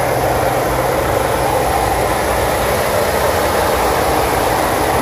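A steady, low idle drone from a pickup truck's 2.7-liter EcoBoost engine, constant and unchanging, heard up close with no talking.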